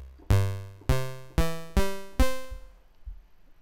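Five plucked string-synth notes from the kseSynth, each struck sharply and fading at the same even rate, spaced about half a second apart, followed by a quiet tail.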